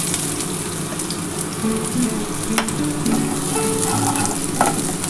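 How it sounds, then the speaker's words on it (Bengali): Garlic, nigella seeds and dried red chilli fry in hot oil with a loud, continuous, close sizzle, broken now and then by small crackles and a light stir. "আমি প্রথমে কিন্তু এই কালো জিরা শুকনো লঙ্কাটা দিয়ে দিলাম ফোড়নে তারপরে এই যে রসুনটা এটা দিয়ে দিলাম"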